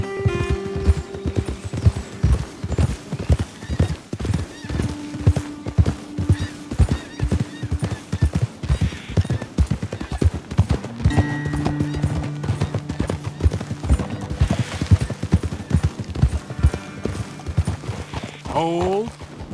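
Horses in Red Dead Redemption 2 clip-clop steadily along a trail, with rhythmic hoofbeats and an occasional neigh, and characters talking over them.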